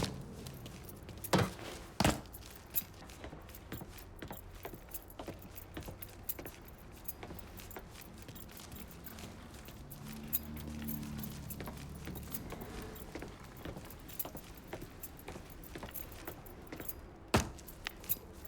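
Keys being picked up in the video game Mafia 3, a light jangle among footsteps, faint vehicle hum and game ambience, with a few sharper clinks standing out.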